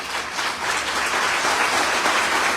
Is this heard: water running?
no